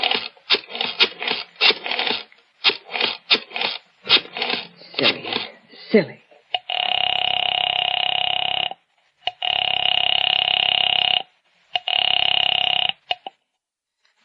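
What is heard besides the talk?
dialing a telephone, dial tone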